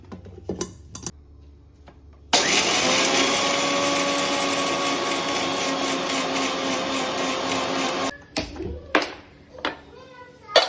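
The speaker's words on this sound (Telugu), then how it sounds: "వేసి మెత్తగా మిక్సీ పట్టుకోవాలి." A kitchen mixer grinder whirs loudly while grinding soaked lentils with half a spoon of salt for Rayalaseema-style uggani, a steady roar of about six seconds framed by brief clatter and movement before and after.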